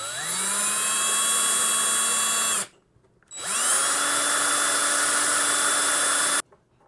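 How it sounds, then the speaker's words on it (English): A power drill pre-drills a hole for an M3 screw in leftover wooden planks for a small camera shelf, whining loudly in two sustained bursts separated by a short pause. "And then I'm gonna pre-drill another hole."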